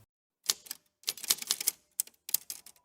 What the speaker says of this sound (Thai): มันเป็นเสียงเหมือนคนกำลังกดแป้นพิมพ์ดีด